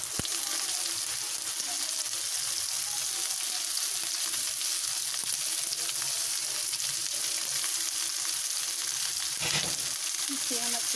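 Chopped vegetables for chowmein sizzle steadily in a hot pan while being stirred, giving a continuous crackling hiss with occasional soft scrapes, close and even throughout.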